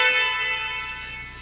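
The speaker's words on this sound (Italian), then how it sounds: "Clacson nella parte centrale." A 2016 Kia Sportage car horn sounds in one loud sustained honk, close and alone, fading slightly over a second and a half.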